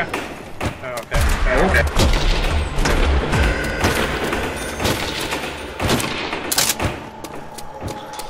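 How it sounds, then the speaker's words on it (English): Trench gun firing in Call of Duty World at War Nazi Zombies on Nacht Der Untoten, a rapid series of loud, close shotgun blasts and thuds amid game noise, with players talking over the action. "Wow, the trench gun is really good."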